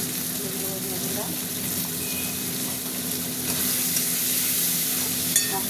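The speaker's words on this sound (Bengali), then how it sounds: "মশলাটা একটু কষা কষা হোক।" Ground cumin, coriander and turmeric powder sauté in oil in a pan, giving a steady, even sizzle that continues throughout at moderate loudness.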